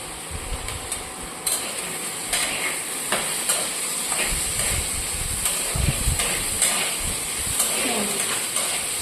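Spice paste frying in a pan, a steady sizzling hiss with irregular spoon clatters and scrapes on the pan through the whole stretch.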